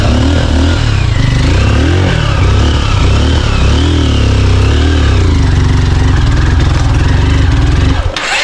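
A motorcycle engine runs loud and close throughout, its revs wavering and surging unevenly as it sputters and loses power, then cutting off abruptly near the end.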